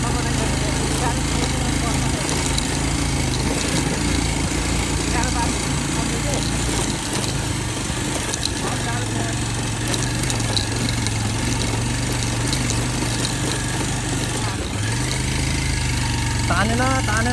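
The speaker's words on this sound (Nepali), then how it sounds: "ओइ बाइक पुरानो भयो क्या तान्दैन" An old motorbike carrying three riders drones steadily as its engine strains, a continuous labored hum with wind noise and voices talking over it throughout.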